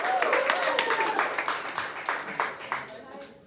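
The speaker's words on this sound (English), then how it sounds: "clap it up for your next contestant, Allie, everybody." A comedy club game show audience claps enthusiastically, a lively burst of applause with a voice briefly audible over it, tapering off at the end.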